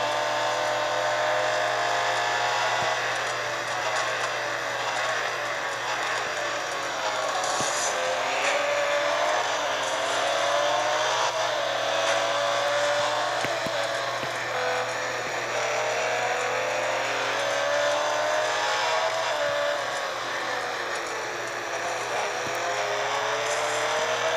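Lamborghini Centenario engine roaring in a racing video game, a loud continuous high-revving drone rising and falling with gear changes and cornering throughout.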